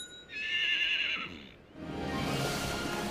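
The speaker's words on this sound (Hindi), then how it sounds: "ये आवाज हूफ बीट्स की तरह लग रही है ना? ये तो घोड़े लग रहे हैं।" Wild horses on the Galápagos Islands, a stallion and his harem, neigh in two clear whinnies, the first a bright drawn-out call and the second a rougher, louder one that carries to the end.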